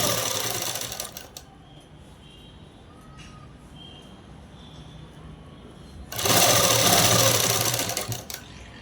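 A sewing machine sews the side seam of a French-cut dress up to the waist, first a short run, then a quiet pause with small handling sounds, then a louder steady burst of stitching before it stops.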